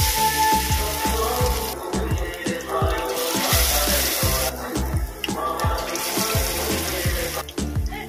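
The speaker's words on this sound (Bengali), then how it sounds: "আমার তেলটা গরম হয়ে গেছে, আমি এইভাবে চোবাবো। এক এক করে দিয়ে দেবো।" Slices of ash gourd fry in hot oil, a steady close crackling sizzle with watery spitting bursts running throughout, loud and continuous with no talking.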